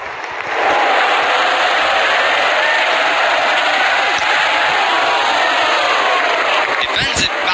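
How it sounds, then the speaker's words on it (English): A cricket stadium crowd roars and cheers continuously at a day-night Test match, a loud, dense wall of voices that swells and holds for several seconds. "Crowd going mad here."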